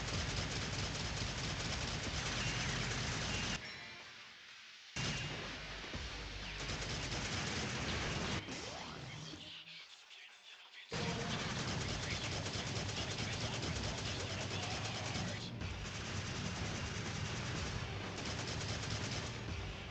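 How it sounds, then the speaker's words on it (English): Rapid, sustained pistol fire in Devil May Cry 4 rattles out in dense, loud volleys, with a couple of short lulls before the shooting resumes. "I'm gonna have to spam this man with some pistols."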